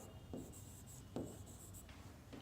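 Pen scratches across paper while working a fifth-grade percentage maths problem, with a few short strokes and taps in a quiet room, faint and close with no talking.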